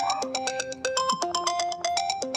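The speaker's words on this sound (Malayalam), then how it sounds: "ഫോൺ അടിക്കണല്ലേടി" A mobile phone ringtone plays alone, a quick repeating melodic pattern of bright electronic tones sounding fairly close and steady.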